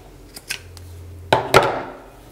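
Scissors snip through crochet yarn while a Moses basket base is being finished, giving two quick, close metallic cuts after a few faint handling taps, with no talking.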